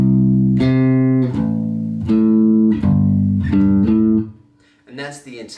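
Bass guitar plays the chorus of a song: a run of loud, sustained picked notes changing every half second or so, ending on a short riff and a quieter final note.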